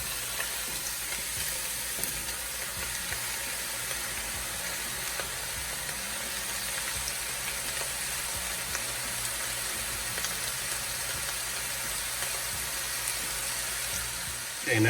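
Onion, garlic and ground meat fry in a pan for lasagna, giving a steady broadband sizzle that holds evenly across the whole stretch, with faint background noise beneath.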